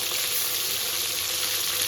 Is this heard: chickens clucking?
no